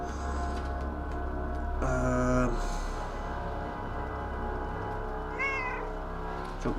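A cat in the video game Stray lets out a couple of clear meows over a steady ambient game drone, one near the start and another softer one later.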